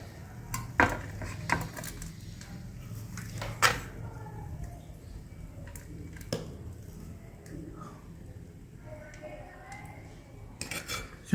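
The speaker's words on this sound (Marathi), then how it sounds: "आता मी तुम्हाला जो आहे ना कुस्कड ताटलीमध्ये काढून दाखवतो" Spoon clinks and scrapes against a steel plate while serving crumbled chapati kuskara from a pot, a few sharp metallic taps among soft scooping sounds, close and quiet, with faint background talk.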